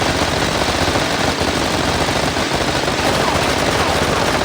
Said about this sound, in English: Take a machine gun for the test.